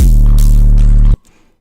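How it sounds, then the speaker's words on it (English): A loud, deep sustained 808 bass tone from music software, for an amapiano beat, booms steadily for about a second, then cuts off abruptly, leaving only faint low crackles. "then we're gonna go with the 808 bass"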